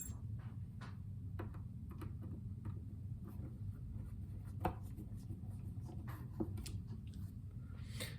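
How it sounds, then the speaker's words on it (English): Small tuner screws being unscrewed from the back of a cigar box guitar, faint scattered clicks and light metallic scrapes over a low background hum, close and quiet. "Now I just need to take off 1, 2, 3, 4 screws to open up the back."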